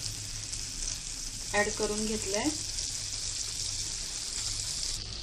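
Butter sizzles on a hot tava, making a constant soft hiss as patties are prepared. Someone speaks briefly over it.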